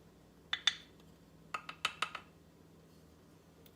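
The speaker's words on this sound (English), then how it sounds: "now we're just going to take this and mix it all together" Homemade biscuit dough being mixed in a bowl: faint, sparse clinks and taps of a utensil against the bowl, two quick hits followed by a closer cluster of four or five, in an otherwise quiet room.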